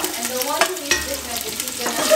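Onions and capsicum stirred in a hot pan for beef caldereta, a steady close sizzle with a few scraping stirs of a spatula, no voices.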